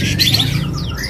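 A gacor songbird in a market bird kiosk sings a short burst of bright chirps and whistled sweeps, close and fairly loud over a low background rumble.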